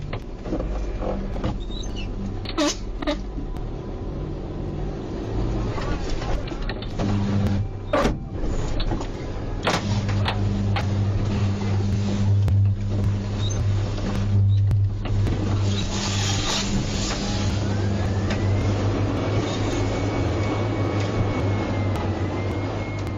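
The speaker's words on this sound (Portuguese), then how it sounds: "a caçamba de um deles encostou na rede elétrica, o que causou esse efeito incrível e assustador de eletricidade jorrando para tudo quanto é lado" Electricity arcing from a power line after a truck's dump bed touched it at a construction site: a steady electrical hum and buzz runs throughout, broken by sharp crackling bursts, with no talk.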